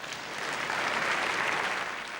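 Sustained applause from a standing audience of more than 2,000 in Belfast's Waterfront Hall, a dense steady wash of clapping that swells slightly in the middle and carries on without a break.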